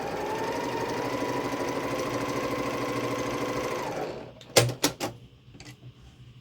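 A sewing machine runs steadily for about four seconds while stitching quilt block fabric, a close mechanical whir that stops, followed by a few sharp clacks and taps and then quiet.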